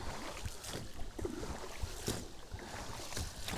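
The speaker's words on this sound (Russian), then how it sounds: "Лодка идет довольно резво." Water splashing and sloshing in regular strokes, like oars pulling a small boat along, with faint wind noise in the background.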